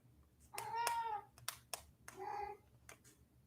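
A house cat meows several times, in drawn-out, clear calls with short pauses between them, close by in a quiet room, with a few light taps and bits of background noise.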